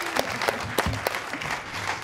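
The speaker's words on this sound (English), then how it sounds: "perhaps we could practice our applause" A seated campus panel audience breaks into brief applause, a quick burst of overlapping claps with a few louder hand strikes standing out, over roughly two seconds.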